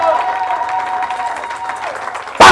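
A church congregation cheers and applauds, clapping and voices mixed with a sustained tonal sound, with a sudden loud burst of noise near the end.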